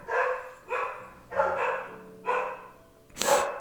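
Dogs bark at visiting pest control workers, five loud, evenly spaced barks ringing out close by with short pauses between them and no talking.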